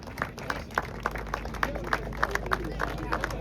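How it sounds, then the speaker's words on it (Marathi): Scattered applause from teams at an outdoor cricket prize ceremony in Wagholi, Pune, with thin clapping running steadily under someone speaking over a microphone. "मला वाटतं सिंहगड संघ फक्त एकटाच टाळ्या वाजवतोय"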